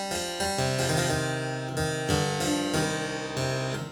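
A harpsichord plays a brisk courante passage in even, steady notes, bright and plucked, close and alone.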